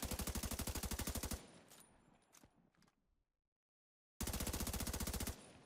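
Rapid automatic gunfire in The Division 2 shooter game, two loud sustained bursts of evenly spaced shots separated by a short quiet gap with faint scattered sounds.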